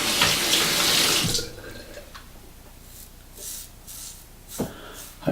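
Tap water runs loud and steady for over a second while a razor is rinsed under it, then cuts off, leaving quieter rustles and a few soft clicks and splashes.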